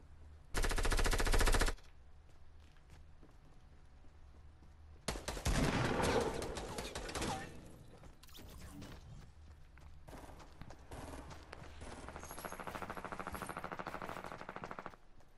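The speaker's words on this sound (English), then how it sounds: "People shooting, but I don't know where they are" Automatic gunfire in the video game Fortnite comes as two loud, rapid bursts with quieter scattered shots between and after them.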